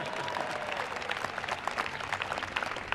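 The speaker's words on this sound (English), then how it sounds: "That's worth applause, too." Audience applause at a White House state welcome, a steady wash of many hands clapping with scattered sharper claps throughout, moderately distant and continuous with no talk over it.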